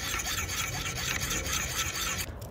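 A file is worked in a steady circular motion against a pruning tool's steel blade, giving a continuous close rasping scrape with little break that cuts off just before the end.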